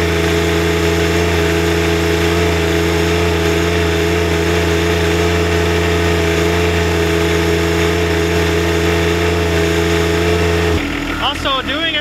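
John Deere 1025R compact tractor engine held at wide open throttle, a loud, steady, droning mechanical hum that runs without a break before cutting to a different, rougher sound near the end.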